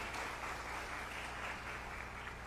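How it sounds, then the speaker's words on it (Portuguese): A church congregation at a Baptist service applauds, a steady wash of clapping heard from a distance and fairly faint, continuous throughout. "A salva de palmas ao Senhor."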